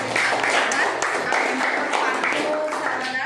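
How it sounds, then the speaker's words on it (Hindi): Applause in a children's quiz game modelled on Kaun Banega Crorepati: dense, continuous clapping from a group that fills the whole moment at a steady loud level, with possible voices mixed in. "जोरदार तालियों से"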